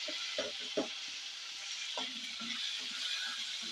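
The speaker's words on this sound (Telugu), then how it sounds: "వీటిని కొంచెం ఫ్రై అయ్యే వరకు అయితే వేపుకోవాలి." Chopped tomatoes and green chillies fry in a pan for an egg tomato masala curry, giving a steady close sizzle with soft stirring scrapes and small bumps throughout.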